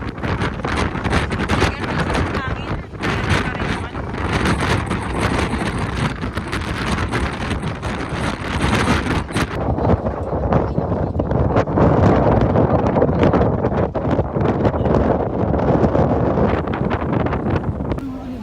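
Steady wind buffets the microphone at Manly Beach in Sydney, a loud, continuous roar with gusty swells throughout, with no clear talk.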